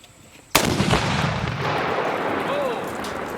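A single rifle shot sets off a charge of Tannerite in one sudden, heavy explosive blast, then a long rumbling roar that slowly trails away outdoors.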